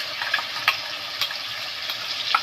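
A ground paste of ginger, cumin, coriander, chilli and turmeric sizzles in a frying pan. An even, close frying hiss is dotted with small sharp pops and spits.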